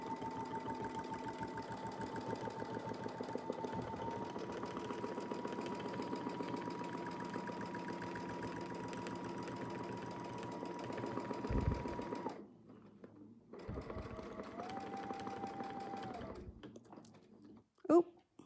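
A sewing machine stitches along a Westalee ruler in a fast, even hum that stops, restarts briefly and halts again, close and moderately quiet, with a voice talking over it.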